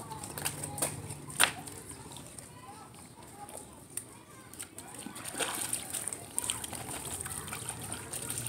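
German Shepherd dogs splash and slosh in pool water, with intermittent splashes and drips, some sharp bursts, under a person's voice urging them on.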